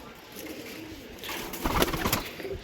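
A pair of Kasuri pigeons giving soft, nearby cooing calls, rising in the second half over faint background noise.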